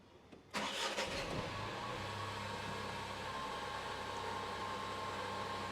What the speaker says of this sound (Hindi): सो अब आपको आवाज़ सुनाता हूँ गाड़ी की।